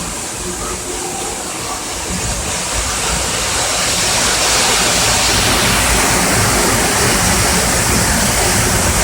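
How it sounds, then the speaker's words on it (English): Roaring waterfall at the Dallas Zoo, heard riding a monorail through it, a loud steady rush of falling water that swells slightly and stays constant throughout, close by and filling the scene. "going through the waterfall."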